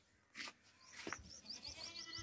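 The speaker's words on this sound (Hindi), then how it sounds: "ये देख लें फ्रेश 2 दांत बकरा है और खस्सी बकरा है, मोटा वजनी बकरा है" A fresh castrated two-tooth goat for sacrifice, heavy and well grown, bleats several times at a livestock market. The calls are close and clear, the last ones a quick wavering run, with a shuffle of handling and no talk.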